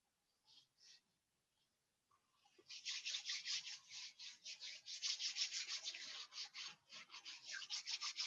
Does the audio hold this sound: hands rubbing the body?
yes